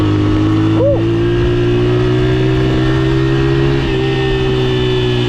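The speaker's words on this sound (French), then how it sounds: "La mini-moto là-bas, le mini-bike" A mini motocross bike engine drones steadily nearby, a constant buzzing hum with slight shifts in pitch and no voices.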